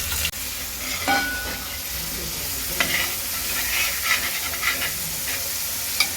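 A paste of garlic, ginger and drumstick bark ground with vinegar fries in hot oil for beef pickle, a continuous close sizzle punctuated by scattered scrapes and stirring clinks of a spoon in the pan.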